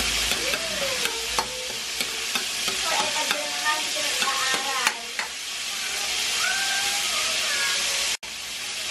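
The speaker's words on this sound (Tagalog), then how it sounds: "Habang nagpa-fry kami ng chicken, pagsatay na rin tayo ng garlic sa butter." Chicken frying for buffalo wings while garlic sautés in butter, a steady close sizzle broken by scraping and clinking of a utensil stirring in the pan.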